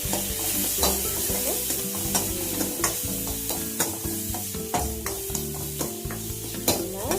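Vegetables for a drumstick, brinjal and raw mango sambar sautéing in a pot with salt and turmeric, a close steady sizzle broken by rhythmic spoon scrapes and knocks against the vessel, no talking.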